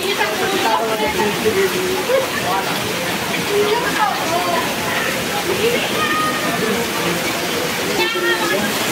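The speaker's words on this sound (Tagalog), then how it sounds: "Grabe yung ulan. Ayaw pang tumila." Heavy rain pours steadily during Typhoon Carina flooding, with rushing, sloshing water close by and people talking over the continuous wash.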